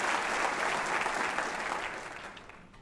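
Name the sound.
audience applauding at a Jehovah's Witnesses event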